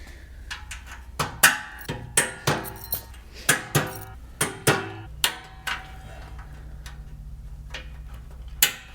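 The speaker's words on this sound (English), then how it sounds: "Just tap those right on with the mallet." A mallet taps wire clips onto a MicroSport Overland trailer during assembly, giving a steady run of about a dozen sharp, close knocks, followed by a quieter low hum.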